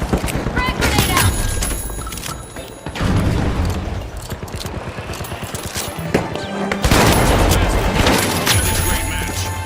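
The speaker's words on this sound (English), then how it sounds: "Frag grenade out" A frag grenade bursts in a video game amid ongoing combat, with heavy booms and crackling gunfire swelling near the end over dense battle noise and game voices.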